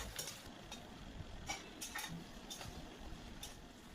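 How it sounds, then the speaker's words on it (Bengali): Onions stirred and fried in oil with salt for a Kolkata-style biryani, heard as a soft low sizzle under repeated light clinks and scrapes of a spoon against the pan, without any speech. "তেলের মধ্যে পেঁয়াজ দিয়ে কিছুক্ষণ নেড়ে স্বাদ মতো নুন দিয়ে পেঁয়াজটা ভালো করে ভেজে নিলাম।"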